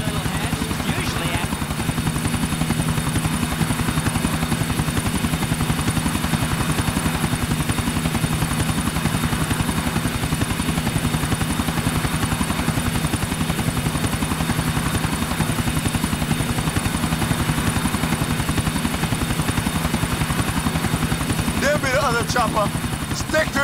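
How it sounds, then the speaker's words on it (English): A helicopter in Grand Theft Auto IV keeps up a steady, loud rotor and engine drone for the whole stretch, with game dialogue and other sound mixed over it. "Chopper, stick to him, Nico."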